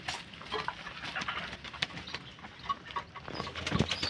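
Pigeons eagerly pecking grain coo softly and irregularly, with small scratching and pattering sounds nearby and no talking.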